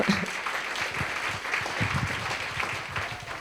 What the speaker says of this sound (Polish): wielkie brawa dla panów